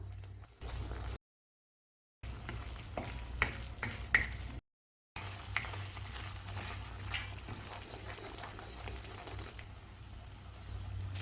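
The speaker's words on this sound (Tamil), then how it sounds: "ஒரு டேபிள் ஸ்பூன் அளவு இடித்த வெள்ளம் சேர்த்துக்கலாம் சேர்த்து நல்லா கொதிக்க விடணும்" Garlic chili thokku with crushed jaggery simmering in oil in a home kitchen pan, a steady low bubbling and soft sizzle with occasional stirring clicks, broken by two short silent gaps.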